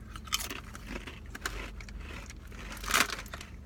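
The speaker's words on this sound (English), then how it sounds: "eat the goddamn chip" Someone bites and chews a Flamin' Hot corn chip up close, with a series of crisp crunches and one loud snap near the end.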